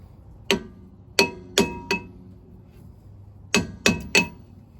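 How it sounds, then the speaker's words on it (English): A hammer strikes the rear brake drum of a 2003-2008 Toyota Corolla to knock it loose: seven sharp, ringing metallic clanks come close by in two groups of four and three, with a pause between. "give it a few hits, do that evenly on both sides"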